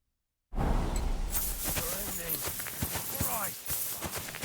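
Horse hooves clip-clop in a steady walking rhythm in the medieval video game Kingdom Come: Deliverance II, fairly close and clear, with someone talking over the footfalls.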